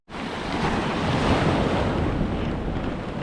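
Sea waves roll and break continuously at Aghroud beach near Agadir, a steady loud surf wash with wind buffeting the microphone and no voices.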